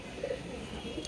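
Pigeons kept as a male and female pair at a home in Serampore give soft, low cooing, faint and brief against steady background noise.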